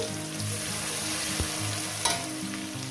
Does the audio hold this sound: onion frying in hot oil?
yes